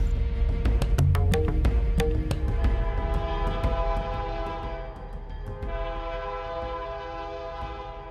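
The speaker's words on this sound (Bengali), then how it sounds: "ট্রেন আসছে বুঝলি" An approaching train sounds its horn in a series of loud, sustained blasts over the heavy rumble of rolling railcars, close by and without voices.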